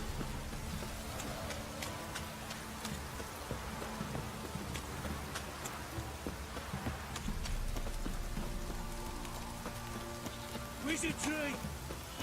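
Steady rain patters on surfaces in The Witcher 3, a constant wash with scattered drips and clops throughout, moderately loud beneath faint game sounds and a tonal voice near the end.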